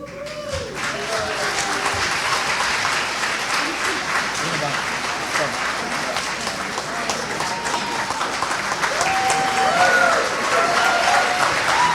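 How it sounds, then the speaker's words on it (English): Audience applause at a school annual day performance, a sustained crowd of clapping that swells toward the end, with voices and whoops mixed into it. "Let's give a huge round of applause"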